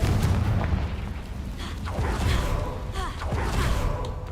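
Confringo fire spell blasts in Hogwarts Legacy, a few booming explosions with whooshing bursts rolling one after another at moderate loudness.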